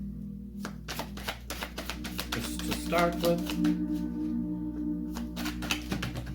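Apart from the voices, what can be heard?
shuffling a deck of tarot cards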